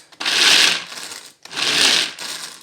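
An Extra Chef manual food chopper cranked by pulling the cord, giving two loud, close whirring bursts of spinning blades, each under a second long, separated by a short pause.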